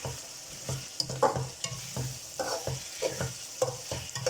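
Spices being stirred and mixed in a pot for vegetable biryani, with rhythmic scraping strokes of a spoon and a soft sizzle underneath, close and fairly quiet, no voices.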